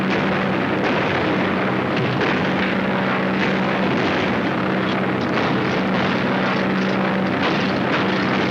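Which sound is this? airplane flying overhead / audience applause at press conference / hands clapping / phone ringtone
airplane flying overhead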